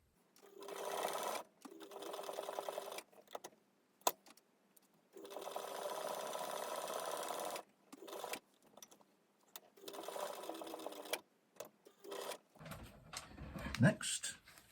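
A sewing machine stitching a seam on Regency-style breeches, running in several bursts of steady rapid whirring separated by short pauses, close and clear, with some handling noise at the end.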